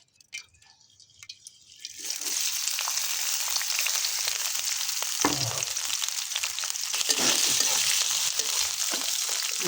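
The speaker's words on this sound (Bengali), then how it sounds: "এখন আমি আনাস আলু ভাজবো" Potatoes drop into hot oil in a pan and a loud, steady sizzle starts, continuing with occasional stirring and crackling after a quiet, clattering opening.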